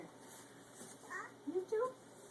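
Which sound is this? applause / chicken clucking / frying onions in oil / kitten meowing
kitten meowing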